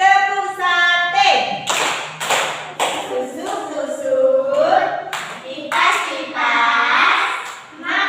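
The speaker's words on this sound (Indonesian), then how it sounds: "Kita kasih tepuk apa ya buat Nela? Tepuk sate." Classroom children chant and clap the rhythmic tepuk sate routine together, sharp handclaps falling in patterned bursts between sung children's voices, close and lively throughout.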